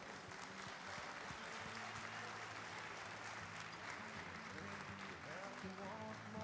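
A live audience applauds Gaël Solaire at the Cuisines en Scènes 2015 cooking show, with steady mid-level clapping running the whole time under a constant background of voices and room noise.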